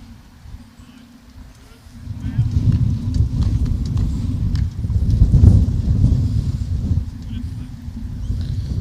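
Strong wind buffets the microphone at a suburban football ground, a low rumbling roar that swells and stays heavy through most of the passage while a commentator speaks over it.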